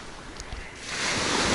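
Ocean surf rolling onto a beach along an empty coastline, a steady broad wash that swells louder in the second half, mixed with some wind rumble.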